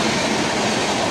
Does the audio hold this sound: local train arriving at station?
yes